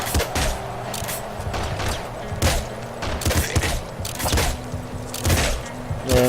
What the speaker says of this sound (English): And right now I'm using a crossbow.